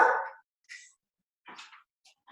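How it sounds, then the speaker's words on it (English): Several dogs barking in a home during a work call: one loud bark up close, then a few shorter, fainter barks and yips spread out with quiet gaps between them. "the dogs are now starting to bark"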